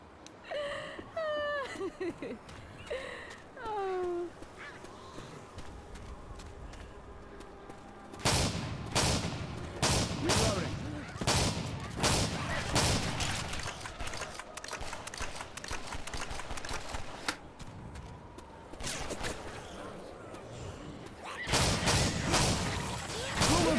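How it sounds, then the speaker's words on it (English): Dense machine-gun fire rattles in rapid volleys through a Left 4 Dead 2 firefight, loud and close, with other game effects and voices mixed in. "machine gun."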